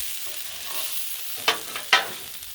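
Turkey stir fry sizzles on a hot Blackstone griddle, a steady broad hiss broken by two sharp scraping spatula strokes near the end, no voices.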